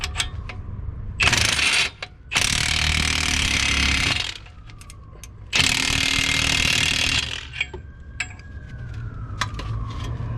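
A ratchet wrench torques a wheel bearing press kit on a 1996 Toyota Camry, three long bursts of rapid, loud clicking separated by short pauses, with faint mechanical creaks in between.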